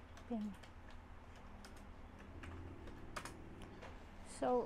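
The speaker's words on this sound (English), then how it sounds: "I am typing." Typing on a BOW MK610 wireless keyboard, light scattered key clicks at a quiet level with a couple of louder taps, set against a faint room background.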